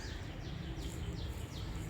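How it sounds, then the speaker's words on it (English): Faint, repeated high chirps of birds come through a steady low background hum, a few short calls spaced apart. "listen to these beautiful birds chirping"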